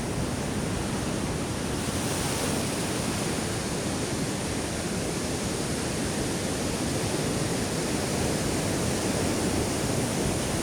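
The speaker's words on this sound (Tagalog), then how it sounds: "Lalakihang alon." Big waves whipped up by Typhoon Kristine crash in a constant, dense roar of surf, loud and unbroken throughout with no pauses or voices.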